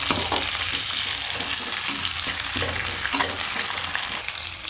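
Onions tossed into hot oil with garlic, frying in a loud continuous sizzle while a utensil stirs them with soft scraping.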